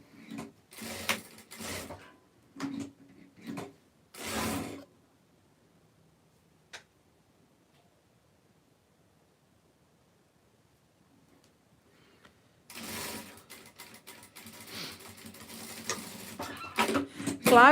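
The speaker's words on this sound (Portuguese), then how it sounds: "A gente tá costurando aqui." A sewing machine stitching runs in several short, close bursts at the start, falls silent for a long pause, then returns in longer runs of rapid mechanical whirring and ticking.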